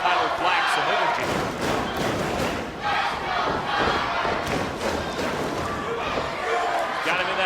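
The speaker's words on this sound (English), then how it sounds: "listen to the crowd. Let's go, Tyler, they say." A wrestling crowd at a Ring of Honor match between Tyler Black and Sonjay Dutt chants rhythmically for Tyler, a loud, steady roar with scattered thuds from the ring.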